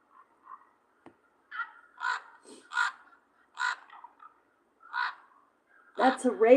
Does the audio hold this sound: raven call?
yes